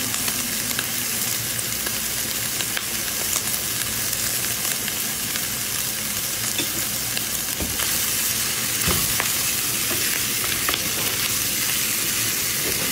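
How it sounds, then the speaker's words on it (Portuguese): Bacon and calabresa sausage fry in a pan with added liquid, making a loud, continuous sizzle and crackle with a few stirring scrapes, close and steady throughout, with no voices. "Aí eu vou colocar mais um pouquinho de banho para ajudar a fritar"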